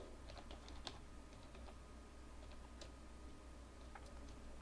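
Fingers type network login credentials on a computer keyboard, light scattered clicks and taps over a steady low hum, faint and close, with no talk.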